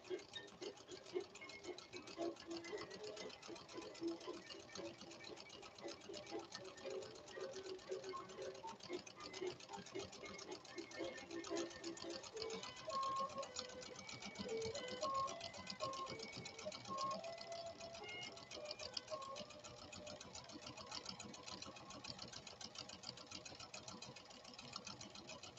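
A Pfaff Creative 1471 sewing machine fitted with a harpoon needle runs at a steady, moderate speed, giving a continuous faint mechanical whir with fine rapid stitching ticks throughout.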